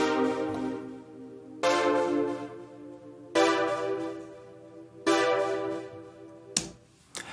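Smooth connected synth notes sound in four sustained phrases, each gliding into the next without gaps, with a brief sharper burst near the end.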